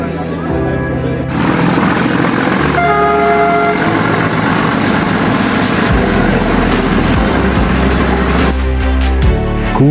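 A Nilgiri Mountain Railway train on the Ooty rack line rumbles past at close range, its horn sounding in several blasts over the steady clatter of wheels and cars.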